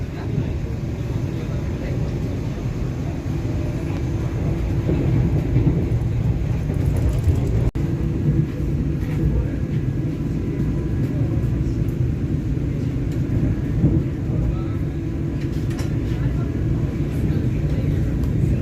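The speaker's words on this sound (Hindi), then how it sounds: "अब अपनी फुल रफ्तार में ट्रेन रुधौली को क्रॉस की है।" A Vande Bharat Express on its inaugural Ayodhya Dham to Anand Vihar Terminal run travels at full speed. It fills the space with a loud, continuous rumble and roar that holds steady throughout.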